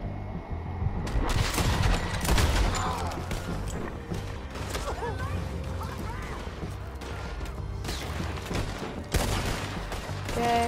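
Dense, layered gunfire from a firefight in Red Dead Redemption 2, with repeated loud shots and crashes over steady battle noise while players talk over it.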